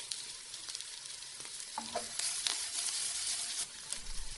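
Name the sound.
stirring zucchini stir-fry in a pan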